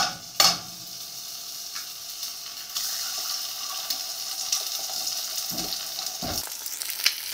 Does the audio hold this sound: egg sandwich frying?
yes